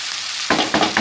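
Mutton keema fries in a clay pot, heard as a hissing sizzle that turns into bursts of loud scraping stirring strokes about every quarter second, close up and without speech.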